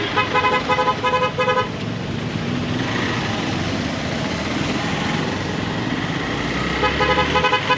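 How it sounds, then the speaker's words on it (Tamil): Sunday traffic jam near the Munnar photo point: short bursts of car horns toot at the start and again near the end over a constant wash of idling engines and outdoor crowd noise. "ஃபோட்டோ பாயிண்ட் கிட்ட கொஞ்சம் டிராஃபிக் ஜாமாக இருக்குது"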